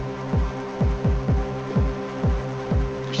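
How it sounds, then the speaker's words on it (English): An ambient drone built in Ableton Operator runs through crush and drive distortion on a drum bus, a steady low hum with a regular throbbing pulse repeating about twice a second, loud and alone. "that last distortion, which is the crush and drive on the drum bus towards the end of the chain"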